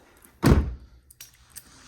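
A 2021 Ford Bronco door swings shut with one solid, close thunk that dies away quickly, followed by a couple of faint latch clicks.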